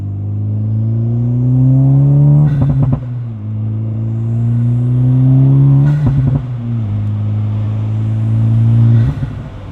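From inside the cabin of a 2024 Acura Integra Type-S with an A'PEXi N1-X valved catback exhaust, the engine drones loudly as the car accelerates, rising in pitch through repeated pulls broken by sharp gear shifts.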